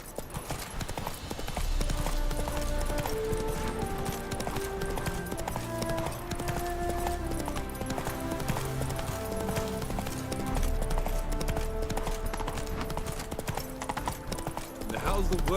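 The horse Roach galloping in The Witcher 3, with rapid, steady hoofbeats continuing alongside game music and occasional character voices.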